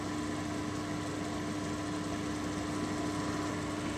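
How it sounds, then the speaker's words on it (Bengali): A mixer grinder runs continuously, grinding spinach and coriander leaves into a paste with no added water, giving a steady, even motor whine that holds at constant loudness throughout, with no speech. "আমি আর একটুখানি বেটে নিচ্ছি ধনে পাতাটা দিয়ে।"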